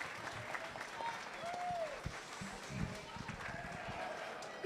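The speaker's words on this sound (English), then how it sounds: "Go ahead and give them a nice round of applause here." Soft, distant applause for young lamb showmen in a 4-H market lamb show at a county fair, scattered claps in a large space with faint voices and movement around.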